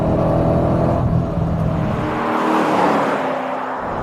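A Nissan 240SX project car fitted with a 6.2 liter V8 revs and pulls past up close, a loud continuous engine roar that rises and then eases as it goes by, with no talk.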